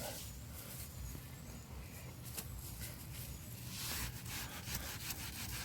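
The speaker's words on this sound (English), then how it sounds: "do your little back and forth rub to thin it down on the outside of the crack" Soap rubbed back and forth into a crack in a cabin log makes a steady, close scraping rub that runs continuously and swells slightly near the end, with no talking.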